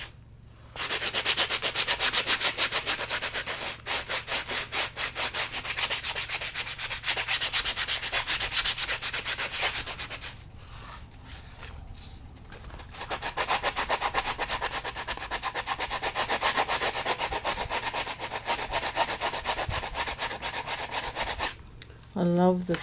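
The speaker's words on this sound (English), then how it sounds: "I'm just going to sand it down." A sanding block rubbing texture paste on an altered board book, a steady close scratchy rasp of rapid back-and-forth strokes, pausing briefly around the middle before resuming at the same loud level.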